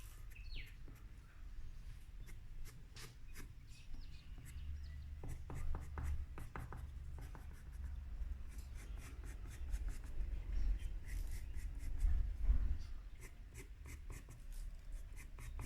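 A white pencil drawing highlights on paper beside charcoal, sepia and sanguine work, giving soft repeated scratchy strokes in irregular bursts, close and quiet over a low background hum.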